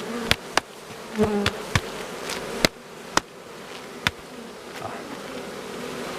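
Honeybees buzz steadily around a hive in Poland, a close, continuous drone punctuated by several sharp clicks and knocks.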